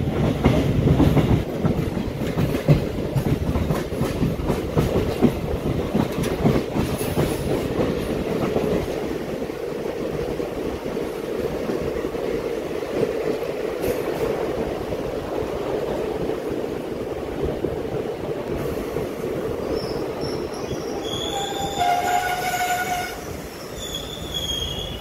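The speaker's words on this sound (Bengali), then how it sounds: "এখন আমি আছি বামনাট রেলওয়ে স্টেশনে।" A train at Bamanhat railway station rumbles and clatters loudly, with squealing wheels and a horn sounding in short, high blasts near the end; no voices.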